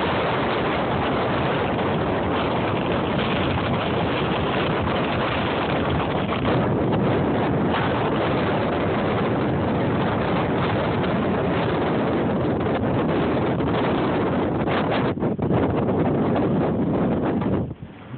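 Strong blizzard wind gusts across an outdoor ski area, blowing snow past in a loud, continuous roar with heavy buffeting on the microphone throughout, steady and close, with no talking.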